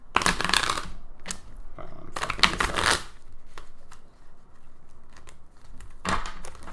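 Tarot cards are shuffled in several quick riffling bursts, close and crisp, separated by short pauses, with faint room noise between.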